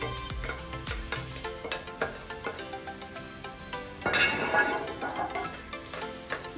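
Spoon clinking and scraping in a pan while chopped tomatoes are stirred for a Palakkad-style Kerala chicken curry, light sizzle underneath, several sharp metallic taps early and a louder burst of frying hiss midway.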